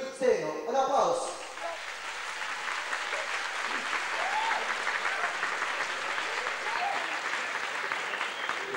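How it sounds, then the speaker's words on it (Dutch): Audience applause at a 1986 Dutch artists' gala: after a brief burst of a voice, sustained clapping from a sizeable crowd fills the room, steady and moderately loud, holding evenly to the end. "En daar kan nog weer applaus tegenaan natuurlijk."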